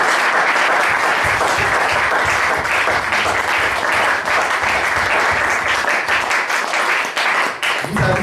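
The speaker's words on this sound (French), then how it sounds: "Si vous pouvez déjà acclamer pour vous-même." A church congregation applauds loudly and continuously during a pastor's sermon, a dense wash of clapping that fills the room and holds steady for the whole stretch.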